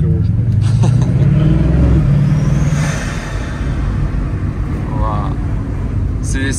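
A Bugatti Chiron accelerates hard as its turbos kick in, a deep roaring rumble that swells, then eases and carries on under wind buffeting, heard from inside the car while people talk over it.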